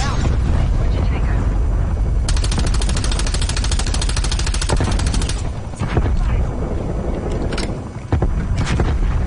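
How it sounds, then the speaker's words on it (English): Incendiary artillery strike in Call of Duty: Black Ops Cold War multiplayer, a loud, continuous roar of explosions and rumbling fire with a crackling burst in the middle and a few sharp bangs near the end, under faint voices. "Get artillery on indicated grid location. Incendiary out."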